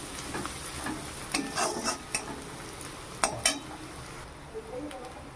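Onions frying in a pan with salt and turmeric, with a soft steady sizzle under scattered clinks and scrapes of stirring against the pan.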